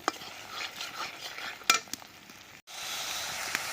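Spice paste frying together in a pan over a clay earthen stove while cooking a Bhola fish oil-chilli curry. A steady sizzling hiss runs throughout, with a sharp metal stirring clink midway and a brief drop in sound before the sizzle resumes.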